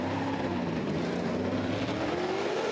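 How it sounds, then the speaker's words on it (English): A Formula Drift pro car is on track during qualifying in Seattle, its engine droning with a rough mechanical tone. The loud, steady pitch sweeps slowly down and then climbs again, heard alone with no voices. "Car sounds funky, right? It's just sounds like mechanical."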